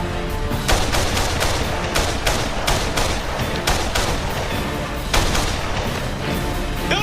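Rapid gunfire from a US Ranger team clearing a building room by room, loud, dense bursts of shots with sharp peaks throughout, no talk.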